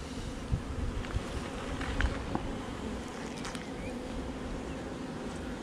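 Steady insect buzzing from many honey bees at an open hive, a dense continuous drone with a few faint knocks and shuffles close by.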